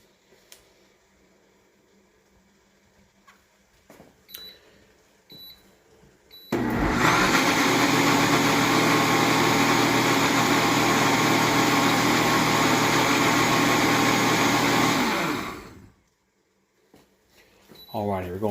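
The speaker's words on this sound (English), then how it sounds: "you can always blend it to whatever consistency you want" A kitchen blender purees beef tongue taco sauce, roaring loudly and steadily for about nine seconds before spinning down, with quiet room noise before and after.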